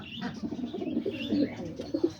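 Pigeons coo close by inside a loft on a rainy day, soft throaty rolling calls overlapping in a low, continuous murmur.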